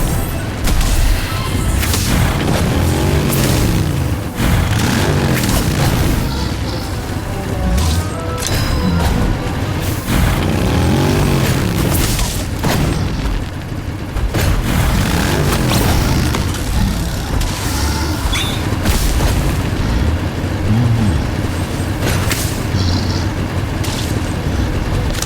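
Bombastic bomb spell explosions in a Harry Potter mobile game, a dense run of booming blasts and crashing impacts that repeat every few seconds over continuous loud game noise.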